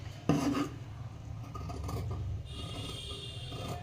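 Scissors cut through blouse fabric, producing a close, continuous rasping and rubbing with a sharper snip near the start, no one speaking.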